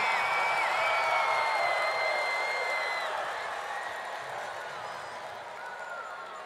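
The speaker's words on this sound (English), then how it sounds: "take a round of applause" Applause and scattered cheering from a crowd at an education funding rally in Western New York, loud at first and slowly fading over several seconds, with a few whoops and no speech.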